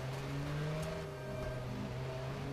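A red car in the video game Watch Dogs pulls away, its engine droning steadily with rising revs and tonal hum, close and continuous throughout with no talking.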